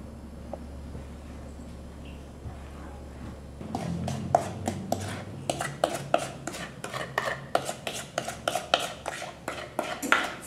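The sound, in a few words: mixing dry cookie ingredients with oatmeal flour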